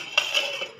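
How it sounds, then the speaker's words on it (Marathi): A single light metallic clink as a lid settles onto a pot of simmering vegetable curry, followed by a brief faint ring, in an otherwise quiet moment. "झाकण ठेवूया"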